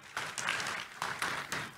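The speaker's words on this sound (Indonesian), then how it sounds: "Tepuk tangan dulu yang meriah buat Tuhan Yesus." A church congregation in Indonesia applauds for Jesus, a brief burst of clapping with uneven sharp peaks, moderately quiet and heard from across the room.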